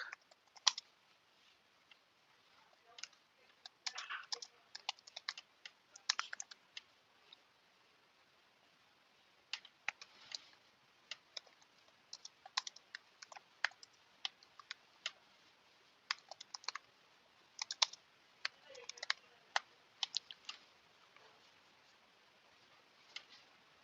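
Keys on a computer keyboard clatter in irregular bursts of quick taps while code is typed, with pauses between runs, close and fairly quiet with no talking.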